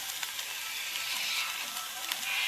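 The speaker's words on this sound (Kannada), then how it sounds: "ಬೆಳ್ಳುಳ್ಳಿ ಕೆಂಪಾನ ಮುಟ್ಟ ಫ್ರೈ ಮಾಡ್ಕೊಡು" Garlic frying in a pan for a garlic chicken dish, with a soft, steady high sizzle and small crackles and pops throughout, fairly quiet and with no talking.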